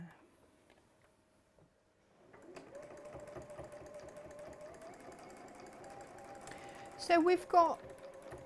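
Sewing machine stitching a quarter-inch seam on a quilt block, a steady mechanical whir running for several seconds at moderate level, with speech heard briefly before it and louder clatter near the end.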